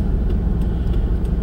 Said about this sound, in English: Ooh, cars coming from everywhere.